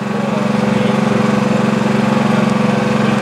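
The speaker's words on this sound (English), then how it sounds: "It's operating on a Honda gas engine with a hydraulic pump." Honda gas engine driving a hydraulic pump on a self-contained self-loading trailer, a loud steady close drone with a fast even throb that holds for the whole stretch, no talking over it.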